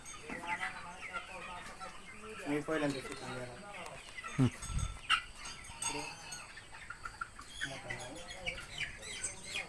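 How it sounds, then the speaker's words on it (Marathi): Chickens in a poultry plot cluck and call over someone talking, with scattered nearby clucks and a few louder bursts through the short stretch. "आज आम्ही कोंबडीच्या प्लॉटमध्ये आलेलो आहे"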